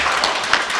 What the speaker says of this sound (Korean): 다시 한번 큰 박수 주시기 바랍니다